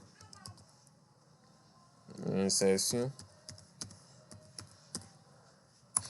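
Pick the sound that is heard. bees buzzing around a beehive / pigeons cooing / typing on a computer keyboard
typing on a computer keyboard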